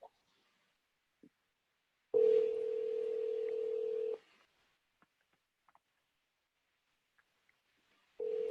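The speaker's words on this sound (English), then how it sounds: "Letting this call go to a voicemail and see if the name's on the voicemail." An outgoing phone call ringing on the line before going to voicemail: a steady two-second ring tone, a long silent gap, then the next ring starting, clear and alone.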